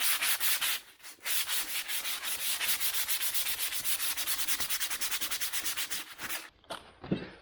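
180-grit sandpaper is rubbed by hand across an Austin Healey body panel in quick, rhythmic back-and-forth strokes, close and steady, with a short pause early and a few scattered strokes at the end.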